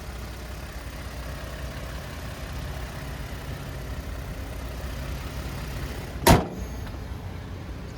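A 2023 Toyota Tundra SR5's 3.4-litre twin-turbo V6 idles steadily with the hood open, a low, even rumble running throughout, broken near the end by one brief sharp clunk.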